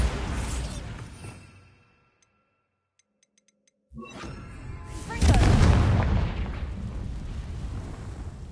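A Bombarda spell bursts in Hogwarts Legacy, a deep rumbling boom that fades to near silence, followed by another loud rushing blast and a sustained roaring, crackling rumble.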